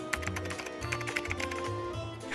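A character types on a keyboard in the Roblox game Mall Tycoon, producing rapid clusters of crisp key taps over a faint steady tone, with short pauses between bursts of clicks.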